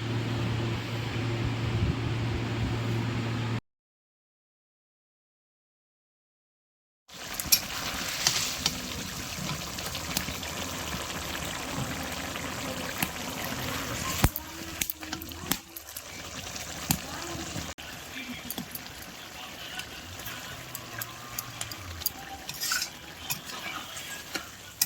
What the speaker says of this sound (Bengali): এখানে তরকারির ঝোলটা ফুটে গেছে। তো আমি এখানে ভাজে রাখা বড়ি আর ওই মাছগুলো একসাথে দিয়ে দেবো